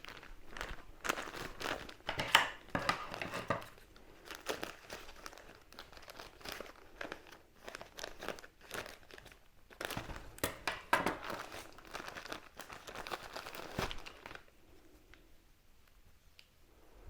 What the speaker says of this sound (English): I'm going to try the fiberglass matting material. It's a little bit more heavy duty. So just going to open it